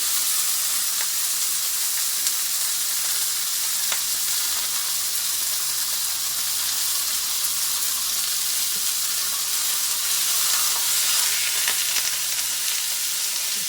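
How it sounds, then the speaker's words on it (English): Steady, loud sizzling of ground meat frying in a hot pan, a continuous crackling hiss with no talking. "I'm just going to fry up my meat."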